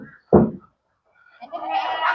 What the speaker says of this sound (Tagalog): At yung kambing natin naghihintay ng pagkain ng feeds.